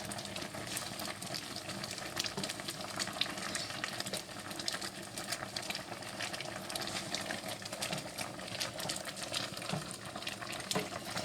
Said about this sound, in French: Et on fait cuire tout en touillant régulièrement